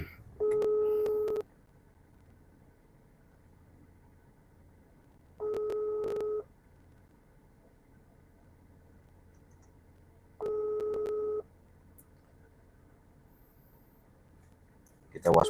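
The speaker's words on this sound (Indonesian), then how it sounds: "saya telepon Bang Bek dulu, aktif nggak ini, mudah-mudahan nyambung." Three bursts of a repeating busy tone on a phone call, each about a second long and separated by silence, sounding clear and steady with a faint trace of noise at the very end.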